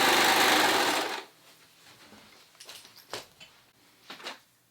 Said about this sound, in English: So I went and sewed up and around the top, the crown.